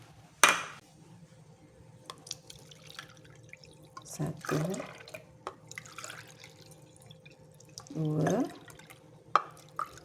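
Measured cups of coconut milk and water pour into a bowl while making rice flour bingka: three short splashing pours with light clinks of the cup, separated by quiet pauses, as a voice counts aloud.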